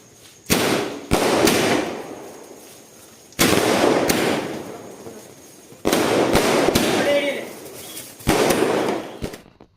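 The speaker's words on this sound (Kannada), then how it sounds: "ಈಗ ಪಟಾಕಿ ಸಿಡಿಸ್ತಾ ಇದ್ದೀವಿ" Firecrackers set off for a birthday on a festival day burst in four loud separate bangs, each with a sharp crack and a trailing crackle that dies away before the next.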